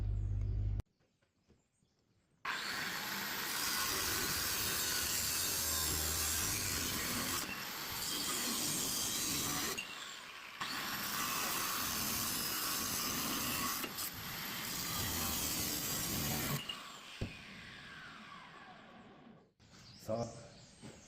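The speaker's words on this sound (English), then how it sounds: "I'll drill the other 2 holes" A drill bores holes through an old steel frame being reworked into a lick bucket holder, giving long, loud, steady grinding runs broken by a few short pauses.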